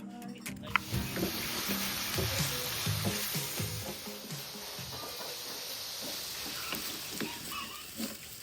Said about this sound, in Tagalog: Magluluto tayo ngayon ng scrambled egg.